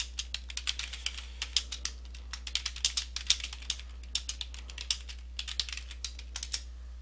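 Someone types quickly on a computer keyboard, with irregular bursts of light, crisp key clicks close to the listener over a steady low hum.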